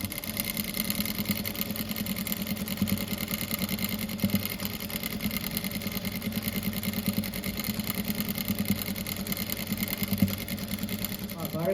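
A sewing machine runs steadily, stitching a seam through fabric for a rug made from reused cloth, with a continuous mechanical hum and rapid needle rhythm at moderate level throughout.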